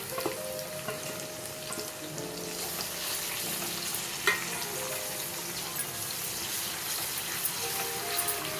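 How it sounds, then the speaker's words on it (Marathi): Finely chopped onions frying with cumin in a pan, giving a steady soft sizzle with occasional stirring clicks and scrapes, close and alone without talk. "आता आपण त्यात 2 मध्यम आकाराचे बारीक चिरून घेतलेले कांदे घालायचे आहेत।"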